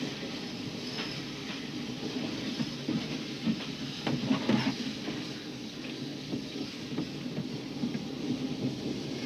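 A moving train rumbles and hisses steadily from inside a carriage, with faint clanks and a constant low roar as it runs.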